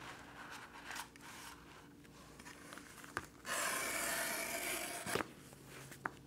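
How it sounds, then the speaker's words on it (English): Heavy 8 to 9 ounce vegetable tan leather being cut by hand makes a close, quiet scrape. A sustained rasping slice runs in the middle, and a few sharp clicks and taps come before and after it. "I'm going to cut a piece of 8 to 9 ounce vegetable tan leather"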